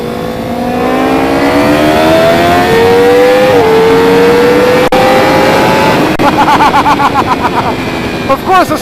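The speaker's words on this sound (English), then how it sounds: "a shot of the Gixxer 1000R cruising down the highway" A 2017 Suzuki GSX-R1000R sport bike cruises down a highway, its engine a steady, loud drone whose pitch climbs gradually, then breaks into rapid pulsing bursts near the end.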